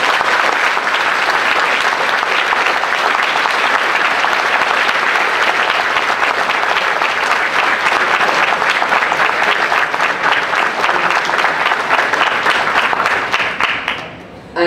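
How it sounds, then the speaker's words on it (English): A large audience at a university Excellence Day ceremony gives a loud, sustained round of applause for the parents, a dense wash of clapping that holds steady for about fourteen seconds before fading out at the end. "I request all of you to give a round of applause to all your parents"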